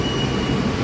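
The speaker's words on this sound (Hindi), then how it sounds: "एक मेट्रो गई, दूसरी आ गई है।" A Delhi metro train at a Red Line station, a loud, steady rumble of rolling carriages and wheels on rails filling the brief moment close by.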